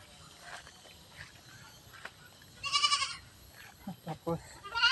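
Goats bleat close by at a rural backyard goat pen, several short wavering calls in a burst and a later cluster, with light rustling and a quiet voice in the background.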